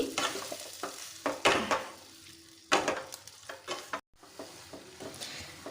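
Egg tadka mixture being stirred into cooked masala in a pan, with repeated scraping strokes and a low sizzle, close and fairly loud, with short pauses between bursts of stirring.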